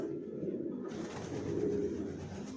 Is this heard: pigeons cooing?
yes